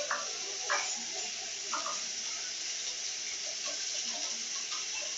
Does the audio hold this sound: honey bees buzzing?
no